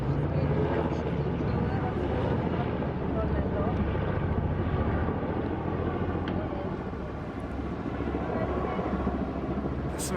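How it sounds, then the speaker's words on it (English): Rescue helicopter over a UK coast where lifeboats are also out, a distant, steady rotor rumble that persists throughout, mixed with wind and outdoor background noise. "There's like the rescue helicopters out and the RNLI lifeboats out as well."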